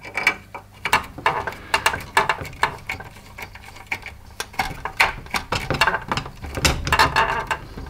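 A small screw is turned into a Fanhome Knight Rider KITT model kit part, making a close run of tiny clicking, ratcheting and scraping sounds in irregular bursts with no talking.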